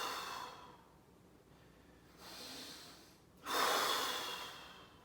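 Slow, deep breaths through the nose during a seated thoracic mobility stretch, a long exhale followed by two more drawn breaths, the last the strongest, close and fairly soft, with no talking.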